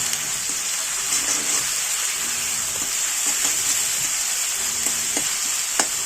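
Tomato paste frying in a pan for pav bhaji sends up a constant, dense high sizzle with faint scrapes of a spatula now and then, steady and close throughout, no voices.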